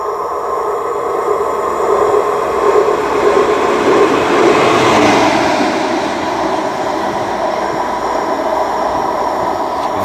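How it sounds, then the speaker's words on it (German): A single green-and-white Captrain diesel locomotive passes by at a railway in Unna and Kamen, a loud steady rumbling drone with a low hum that swells slightly at mid-pass and stays strong throughout. "Das scheint wieder eine einzelne Diesellok zu sein."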